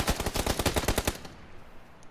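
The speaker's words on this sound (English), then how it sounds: "And we're getting shot at again." Rapid automatic gunfire in a PUBG firefight, a fast burst of sharp close shots for about a second that then thins into trailing echoes and one last crack.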